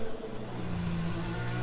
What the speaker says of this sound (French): on a les 20 voitures qui roulent